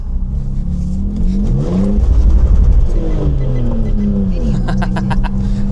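A BMW E36 328i with worn, nearly bald tires drives and accelerates, its engine droning close and loud as the pitch climbs and falls through revs, with a bit of talking over it.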